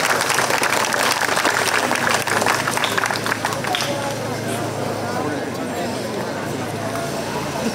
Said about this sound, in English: Again, give them a round of applause for coming out this evening.